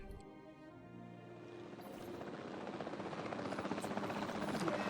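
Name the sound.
helicopter flying in video game Jurassic World Evolution 2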